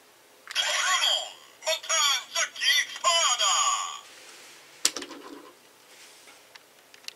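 A synthetic toy voice effect with choppy, stuttering bursts, an engine-stall sound from a DX Shift Tridoron Kamen Rider Drive toy car, then a sharp click and a short fading mechanical tail before quiet.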